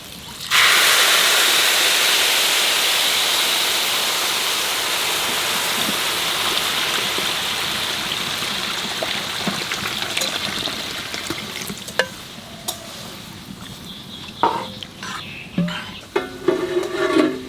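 Water pours in a strong, steady rush into a pot of fried basmati rice for polao, then fades into quieter bubbling with scattered clinks of a spoon against the pot.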